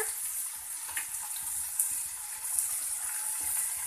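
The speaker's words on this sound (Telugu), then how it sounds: "ఇక్కడ ఉల్లిపాయ ముక్కలు వేగాయి కదండి ఇందులో టమాటా ముక్కలను వేసుకోవాలి" Onion and tomato pieces frying in a pan for a potato egg curry, a continuous bright sizzle with occasional soft stirring knocks, close and steady.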